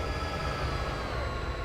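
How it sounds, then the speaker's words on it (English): An approaching freight train on the Cajon Pass railway gives a steady, broad low rumble with continuous wheel and rail noise. It stays moderately loud and unbroken throughout. "Hey, a train's coming."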